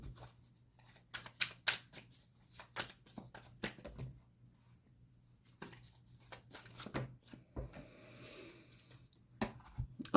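Tarot cards are handled and shuffled from a deck in a quiet room, making soft, irregular riffling and flicking bursts with short pauses between them.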